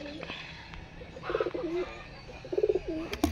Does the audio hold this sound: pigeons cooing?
yes